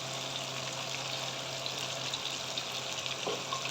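Ginger garlic paste fries with browned chicken in a karahi, giving a soft, steady sizzle with a faint background hum and no talking.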